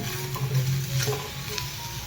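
Pathadi bean pods roast in a pan with a little oil, giving a steady close sizzle with faint stirring scrapes and no voices.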